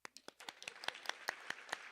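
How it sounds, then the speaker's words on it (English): Sparse, quiet clapping from a small audience at a high school scholarship night, a string of distinct individual claps in an uneven rhythm, fairly faint. "Aiden Buse, Dulce, we can clap"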